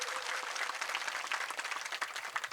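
A crowd at a farmers' irrigation protest rally claps loudly to welcome a swami to the stage, producing steady, dense applause heard from a moderate distance with no voices over it.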